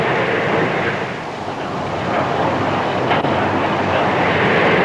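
Passenger train in the 1970s running between the mountains and the coast toward Port Pirie, Australia, a loud continuous rumble and roar of wheels and carriage noise, steady throughout with no voices.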